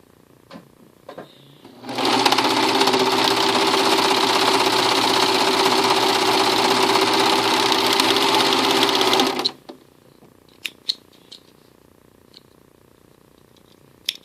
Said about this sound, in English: I'm going to go to my serger for just a second, and I'm going to serge one seam to close up the skirt.